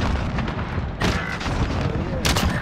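Booming gunshots in a video game, a couple of heavy blasts over a rumbling background of game noise.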